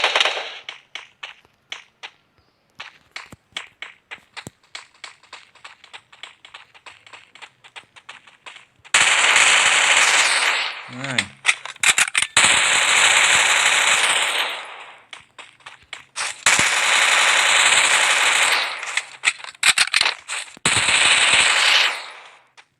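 Automatic gunfire in the Free Fire video game: scattered single shots at first, then long, loud, sustained bursts of rapid fire with brief gaps between them.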